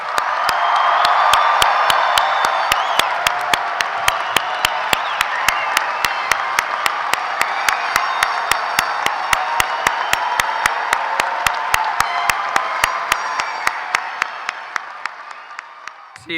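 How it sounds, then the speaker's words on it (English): Sustained crowd applause at a VMI graduation ceremony for the class of 2005, dense clapping filling the space for the full stretch with a few louder individual claps standing out, swelling early then slowly fading toward the end. "How about one more round of applause for the class of 2005?"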